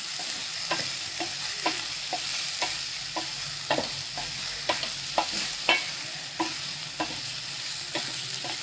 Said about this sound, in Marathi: भाज्या चांगल्या परतल्या गेल्या